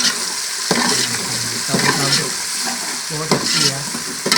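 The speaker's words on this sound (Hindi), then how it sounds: "फिर डालेंगे लाल मिर्च और गरम मसाला साबुत को डालेंगे।" Red chili and whole garam masala fry in a pan of spices with a close, steady sizzle, broken by several scraping, clattering stirs.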